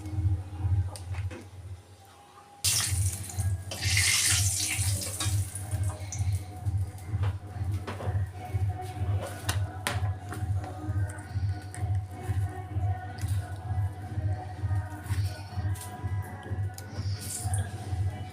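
Bay leaf and a dried chilli hit hot oil in a kadai as tempering for a fish-head moong dal: after a quiet start, an abrupt, steady close-up sizzle and crackle sets in and continues throughout.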